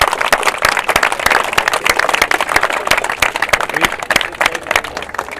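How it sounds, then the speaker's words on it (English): Spectators at a Waterford junior A Gaelic football county final between Mount Sion and Shamrocks break into a steady round of applause: dense, continuous clapping from a crowd, moderately loud and sustained for several seconds. "I think a special round of applause for them."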